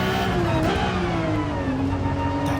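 A 2005 Nissan NISMO R34 GT-R Z-tune in the racing game Gran Turismo 7 drops through gears, its engine note falling and rising in a loud, continuous close-up roar.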